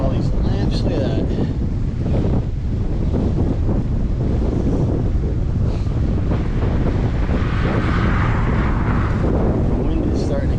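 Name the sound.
wind picking up while cycling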